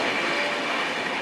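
Nanded SF Express running from Amritsar to New Delhi, a steady, loud rumble of train and rail noise filling the whole moment without any voices.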